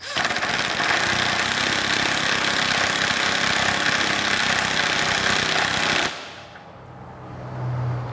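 Impact wrench hammering loudly on a Vespa rear shock nut for about six seconds, a dense rattling burst that stops abruptly, leaving a faint hum.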